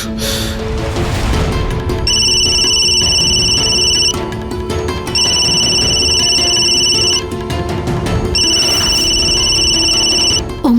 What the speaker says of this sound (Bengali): অংশুমানদা, প্লিজ ফোনটা তুলুন